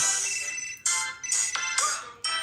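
A phone ringtone plays a bright, tonal electronic melody in repeated bursts with brief gaps between them, loud and near, with no voices over it.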